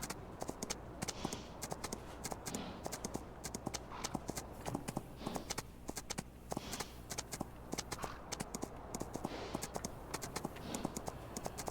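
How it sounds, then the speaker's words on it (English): Rapid, rhythmic hoofbeats of a horse in Farming Simulator 19 moving steadily on hard ground, continuous and fairly close, over a soft background wash. "you can hear his feet on the ground"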